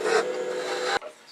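A skew chisel takes a peeling cut on wood spinning on a lathe, giving a steady close rasping hiss for about a second before it cuts off sharply, followed by a quieter lingering whir.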